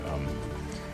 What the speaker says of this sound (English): gotta hurry up, I'm getting rained out here